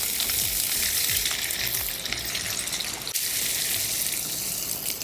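Chopped small onions (shallots) fry in hot oil for a quail pepper masala, giving off a loud, steady, hissing sizzle that runs throughout with one brief dip partway.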